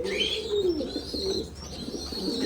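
Red Lahori fancy pigeons coo close by, their soft, rolling low calls overlapping continuously, with a few higher chirps above.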